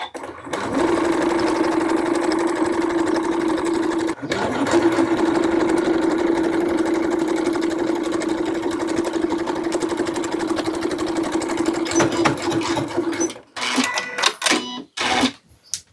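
A sewing machine runs steadily, stitching lace trim onto a beach poncho for a 6-12 month baby, its even mechanical hum broken by a brief pause, then stopping with a few clunks at the end.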